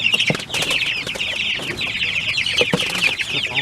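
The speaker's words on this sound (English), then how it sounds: "Run free, little birdies." Young chickens on an open pasture give a steady stream of close, lively clucks and peeps. The calls are continuous and layered, with light rustling and faint wing movement underneath and no talking.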